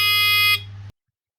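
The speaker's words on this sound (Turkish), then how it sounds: "O siyah kısmın içinde de bir buzzer ve titreşim motoru var." A harsh electronic buzzer on an ultrasonic pest repeller blares loud and close for under a second, its pitch dropping partway before cutting off abruptly into silence.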